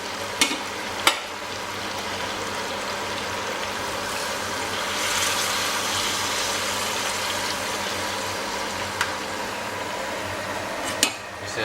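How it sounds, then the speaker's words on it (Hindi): Mutton korma frying in a pan gives a steady, dense sizzle throughout, with a few sharp clinks of a utensil stirring against the metal. "अब इसमें हम फिर से पानी डाल के इसको बढ़िया भुनेंगे।"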